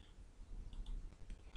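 Light, quiet clicking of keys on a computer keyboard as a value is entered while modelling in Revit, a few soft scattered taps over a low room hum.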